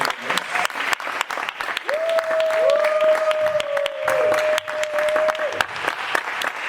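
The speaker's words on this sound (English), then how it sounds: "let's give another round of applause for these brilliant candidates" A film festival audience applauds steadily, with a sustained whistle or cheer ringing out over the clapping for several seconds.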